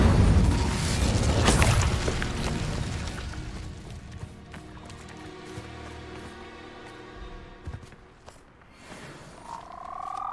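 An Incendio fire spell cast in Hogwarts Legacy, heard as a loud burst of fiery whooshing and crackle that fades into scattered pops, debris and a brief tonal chime at the end.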